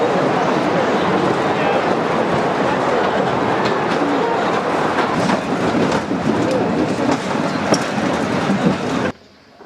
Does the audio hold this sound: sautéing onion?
no